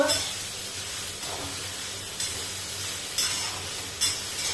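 Vegetables sauté in a pan with a little oil while cooking a fasting meal for Navratri, giving a steady soft sizzle and hiss with periodic louder bursts as they are stirred.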